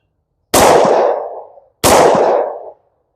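Two loud, close pistol shots about a second apart, CCI Blazer 10mm aluminum-case rounds, each a sharp crack trailing into a brief echo, with no talking.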